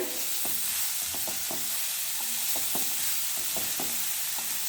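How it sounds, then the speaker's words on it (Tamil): Ingredients such as chana dal fry in oil over a slow flame in a kadai for coconut tomato chutney, a steady hiss broken by scattered clicks and scrapes of stirring. "இது எல்லாத்தையும் போட்டு இந்த கடாயில் வறுத்துக்கலாங்க"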